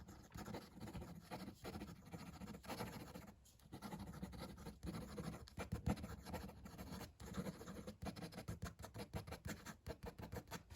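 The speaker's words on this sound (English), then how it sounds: "Quick writing." Quick handwriting with a Benu Talisman Foxglove fountain pen, its plastic feed and steel nib scratching steadily across paper in close, soft strokes, alone with no talk.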